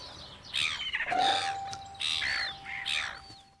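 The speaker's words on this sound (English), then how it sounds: "Hello there, seagulls." Seagulls calling in a cartoon scene, a few bright squawking, chirpy cries in quick bursts, close and clear, with a thin whistling tone under them.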